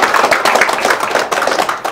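An audience at a Korean foreign affairs and security forum lecture claps in welcome, a dense, continuous patter of many hands at close range that holds steady and thins slightly near the end.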